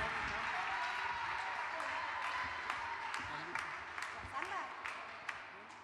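A crowd at a national women's music gathering applauds a singer, dense clapping that slowly thins and fades, with scattered voices and shouts rising over it.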